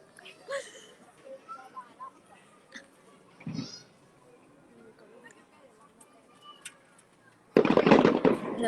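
Firework bursts at a fireworks display, a crackling pop near the start and a loud sustained volley of bangs and crackle at the end, with people talking and exclaiming throughout.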